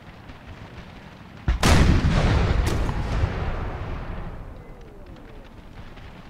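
Artillery fire in the Napoleon Total War American Civil War mod battle, a loud cannon blast with a second report just after, then a long rumbling decay under steady background battle noise.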